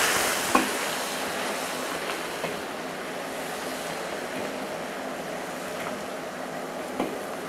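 Pork trotters sizzle in oil with bubbling rock sugar over low heat, a steady close frying hiss with a few sharp pops and crackles, no talking.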